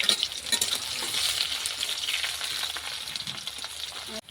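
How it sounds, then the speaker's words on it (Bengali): Cumin seeds and chopped onions sizzle steadily in a hot pan, a continuous close hiss with scattered crackles and stirring scrapes that ends abruptly. "জিরাটা ভাজা হয়ে গিয়েছে, পেঁয়াজ কুচিগুলি দিয়ে দেব"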